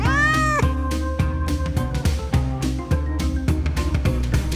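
A cat on Tashirojima, the cat island, lets out a drawn-out falling meow at the start, followed by a steady rhythmic music track that continues to the end.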